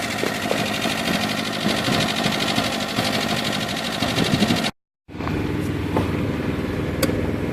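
Subaru car engine with a rapid mechanical ticking, heard close and steady, cutting out briefly before resuming at a similar pace.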